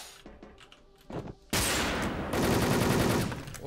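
Gunfire rings out in a video game played on a gaming PC, a sudden sustained burst of rapid shots after a quieter opening of scattered clicks and movement.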